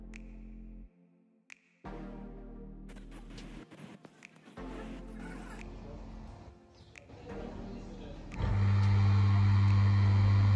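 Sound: pump starting up

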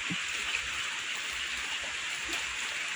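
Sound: rain falling

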